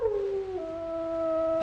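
A dog howls in a steady, drawn-out tone that slides down in pitch, part of the soundtrack of the 1930s public domain horror movie The Rogues' Tavern, heard clearly and alone over a low background hiss.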